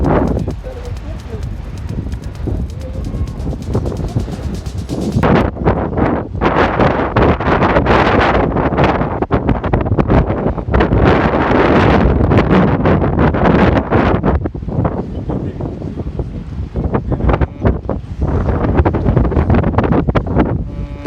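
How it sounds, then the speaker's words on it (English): Strong gusting wind roars and buffets across the microphone around a DJI Mini 2 drone hovering at about 76 feet, loud uneven blasts throughout, with someone talking over it. "That wind is real"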